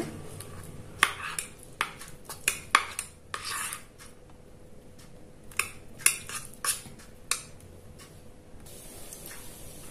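A spoon stirs melted butter mixed with beetroot extract in a small bowl, making quiet, close clinks and scrapes in uneven bursts with short pauses between them, and no voices.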